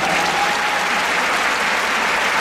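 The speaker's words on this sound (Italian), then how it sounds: "un applauso alla nostra crew" A concert crowd at a live show in Rome applauds loudly and continuously, a dense even roar of clapping with no break.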